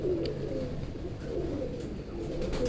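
Pet pigeons coo in a low, steady murmur throughout, several birds close by against dense background noise at a Gujranwala pigeon keeper's loft.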